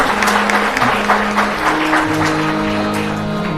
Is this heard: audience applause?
yes